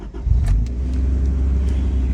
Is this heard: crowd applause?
no